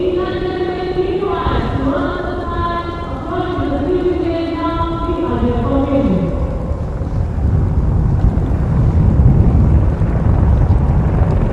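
Indian Air Force helicopters in Victory formation fly over Kartavya Path during the Republic Day parade, a broad rumble that swells louder and rougher as they pass, with a voice talking over the first half.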